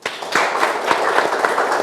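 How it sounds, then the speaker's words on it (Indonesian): Audience clapping at a forum dialogue on pesantren and twelve-year education, a dense, steady patter of many hands filling the short moment at moderate loudness, with no voices over it. "Boleh tepuk tangan?"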